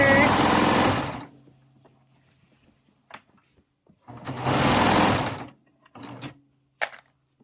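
A serger runs in two loud, steady bursts of about a second each while sewing a pillow seam, trimming loose threads as it goes, with quieter handling clicks and rustles of fabric between runs.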